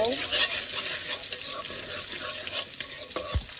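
Onion drops into hot oil for tempering vegetables, giving a loud, steady, close sizzle and crackle with a few light clinks of utensils throughout.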